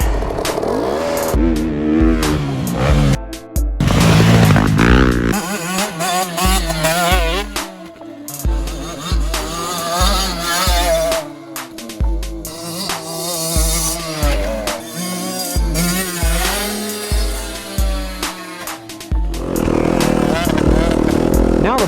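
A 2020 Yamaha YZ250FX dirt bike engine revs hard and loud up close, rising and dropping repeatedly as the rider shifts between gears, with rhythmic surges and brief lulls throughout.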